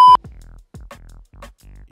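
A phone rings with an incoming call: a short bright beep followed by a repeating pulsed ringtone pattern, steady and fairly close, with no talking over it.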